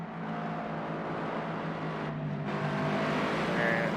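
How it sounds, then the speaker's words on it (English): A Cosworth-engined Toyota 86 race car in Project Cars at Oschersleben drones steadily and continuously, a dense buzzing roar that never lets up. "they do actually run a Cosworth engine, which is why they sound as amazing as they do"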